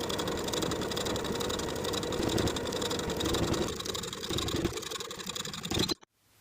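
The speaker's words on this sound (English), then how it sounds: "I'm going to sew that folded edge of the placket in place from the right side of the garment, stitching in the ditch of the main placket seam line" A sewing machine runs steadily and close, stitching in the ditch along the placket seam of a shirtdress with a continuous mechanical hum and whir for several seconds, then stops abruptly.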